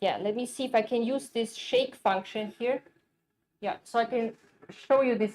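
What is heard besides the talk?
No everyday noise stands out behind the speech.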